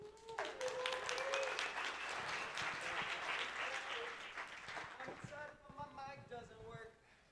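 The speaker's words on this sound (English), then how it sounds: "Let's hear a round of applause" An audience at a Devcon VI conference stage in Bogotá bursts into sustained applause, a dense wash of clapping with a few whoops that gradually thins out before a voice begins speaking.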